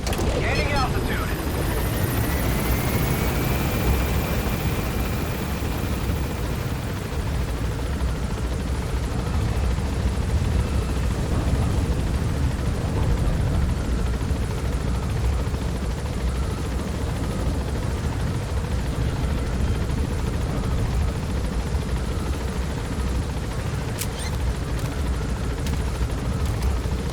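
Helicopter in the video game Metal Gear Solid V: The Phantom Pain climbing to gain altitude, its steady, loud rotor and engine roar filling the whole stretch with a rising whine early on and a brief sharp click near the end.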